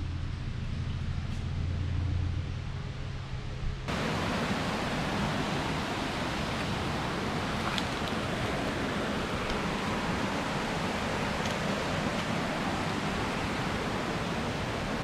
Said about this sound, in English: So you can hear the waterfalls in the background.